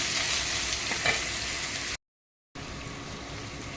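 Chili and turmeric fry in oil in a pan for chili soybean, a steady close sizzle with a brief stir, cut by a short gap of silence before the sizzling resumes.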